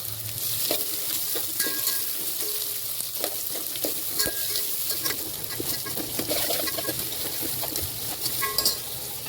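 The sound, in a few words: cumin seeds sizzling in hot oil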